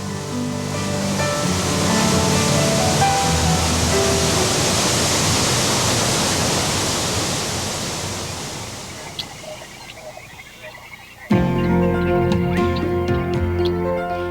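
Wailua Falls on Kauai, Hawaii, a waterfall heard as a dense, constant broadband rush that softens toward the end before a tonal music bed cuts in abruptly.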